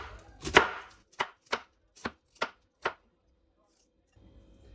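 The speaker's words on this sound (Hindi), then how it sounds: "टमाटर के भी हम ऐसे पीस काट लेंगे" Knife cutting a tomato into pieces on a board, one heavier cut followed by five crisp evenly spaced chops, then quiet.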